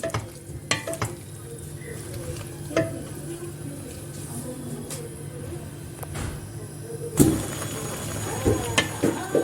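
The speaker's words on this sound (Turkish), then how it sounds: "Bakın güzelce her tarafını aynı şekilde karıştırarak pişirdim" Pointed red peppers stirred in a pot for oil-based pickle, a soft scraping and sizzling texture that runs steadily throughout, with a sharper clatter near the end.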